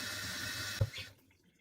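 Tap water runs steadily to wet a chenille cleaning brush at a kitchen sink, then cuts off abruptly partway through, leaving near silence.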